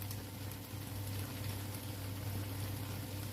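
Paella sizzles and crackles steadily in a hot pan, a dense, continuous frying hiss over a low hum, with no voices.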